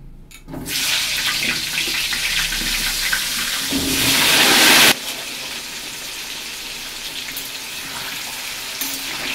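Potatoes dropped into hot oil for frying in a home mutton curry kitchen, a steady loud sizzle and hiss that swells, then cuts back to a quieter ongoing bubbling fry.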